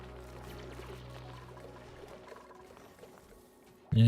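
Water pouring and trickling into a flooded room in the video game Oxygen Not Included, a steady soft liquid stream with low hum beneath, ending in a sudden louder burst.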